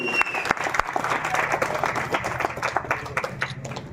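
An audience at a drama competition breaks into steady, dense applause, many hands clapping together at close range for the full length, with a faint murmur of voices mixed underneath.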